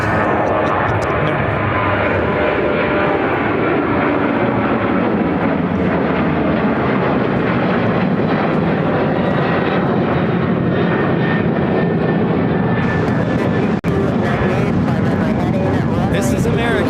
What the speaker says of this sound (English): This is American Airlines 1688 taking off to Newark on the 737-800